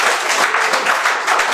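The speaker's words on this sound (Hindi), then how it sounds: "ताली बजा सकते हो बाबा" An audience claps together at a self-employment talk, a short burst of dense, loud applause with a loose rhythmic pulse that carries on evenly for the full moment.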